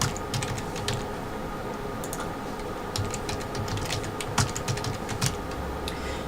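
A password being typed on a computer keyboard while setting up a dual-boot Windows and Linux install, with rapid, continuous key clicks close by against a steady background hum, and no talking.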